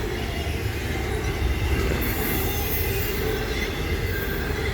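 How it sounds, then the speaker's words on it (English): A long Norfolk Southern freight train rolls steadily past close by, a continuous heavy rumble with grinding wheels and a thin metallic squeal rising partway through. "we're gonna run this thing the whole damn length to show you how long these trains are"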